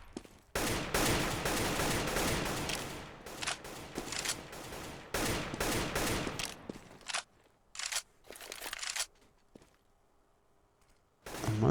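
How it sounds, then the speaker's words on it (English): AK rifle suppressive fire in the competitive shooter match 3DMAX versus USSR: sustained loud automatic bursts for several seconds, then shorter separated volleys and single cracks, tapering into quiet near the end. "AK suppression going down towards top mid"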